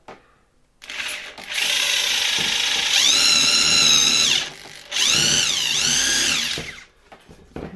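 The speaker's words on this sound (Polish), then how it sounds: "Wiertło działa." An electric drill boring out a stuck screw on an old 1964 electric motor during a bearing replacement, loud whining bursts that rise and fall in pitch, with short pauses between runs.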